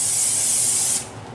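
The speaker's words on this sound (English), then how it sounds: "you heat up the pan and use the oil spray" Oil spray from a can misted onto a heated pan while making fresh blueberry pancakes, a loud, close, steady hiss lasting about one second before it cuts off.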